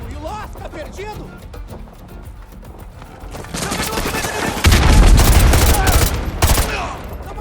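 Gunfire in the video game Call of Duty Modern Warfare 2 Remastered, with dense bursts of automatic fire that build into loud, rapid volleys, under shouted voices.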